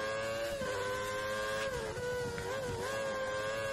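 A Formula 1 car in a racing video game with worn rear tyres drones at a steady high engine pitch that dips and rises as it slides, loud and continuous with no voices.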